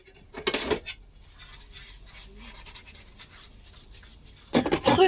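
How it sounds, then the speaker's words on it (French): Dishes and cutlery clatter while being washed in a camper van: a sharp burst of clinking at the start, quieter scraping and rubbing in between, then another loud rattle of utensils at the end. "Première petite vaisselle."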